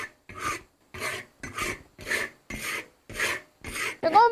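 About eight rhythmic rasping scrapes of a spatula work chili powder and seasoning for salt-and-pepper crayfish around a dry wok over low heat. Each stroke is distinct and separated by brief pauses.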